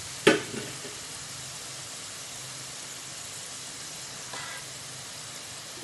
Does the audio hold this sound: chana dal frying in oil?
yes